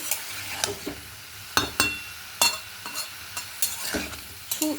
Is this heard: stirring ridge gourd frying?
yes